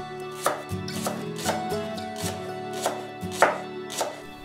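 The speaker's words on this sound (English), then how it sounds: "I mince the leek" A knife minces leek on a cutting board with repeated close, crisp chops in an uneven rhythm of roughly ten strokes, alone without any talk.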